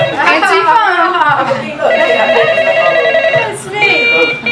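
A children's toy cell phone rings indoors with a bright electronic melody, playing in bursts while kids chatter and call out loudly over it.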